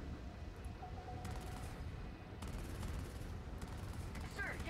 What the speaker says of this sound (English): While he's shooting our turret, let's just go over here and annihilate him.